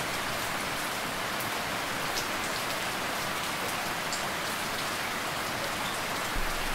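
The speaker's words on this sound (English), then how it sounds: "Ah, fuck this rain." Steady rain pours in a Minecraft game world, a dense, even hiss of drops on surfaces that holds constant throughout, loud and close with no other sounds.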